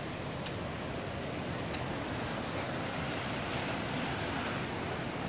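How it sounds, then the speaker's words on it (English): Creek water rushing beside a bike path and bridge, a steady, dense broadband roar with no pauses, mixed with wind rumble on the microphone. "we've got the creek"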